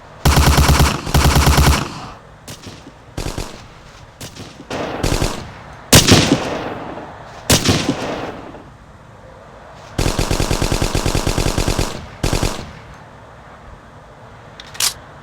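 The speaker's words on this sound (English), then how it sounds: "Seriously, Ape, you were firing in bursts instead of just letting him have it" Machine gun fire in a video game breaks out in loud rapid bursts of varying length, mixed with scattered single gunshots and impacts, with quieter gaps in between.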